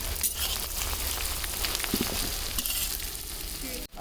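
Onion fries in hot oil with a steady, dense crackle and hiss close by, holding even throughout with a sharper pop near the end.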